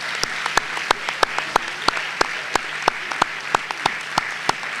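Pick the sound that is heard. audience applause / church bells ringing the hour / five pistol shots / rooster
audience applause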